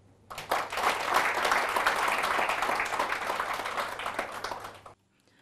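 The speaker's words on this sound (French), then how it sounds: "nous devons vous applaudir" Applause from an audience at a Rwandan and Ivorian official gathering fills the clip, a dense steady patter of many hands lasting about five seconds before stopping abruptly.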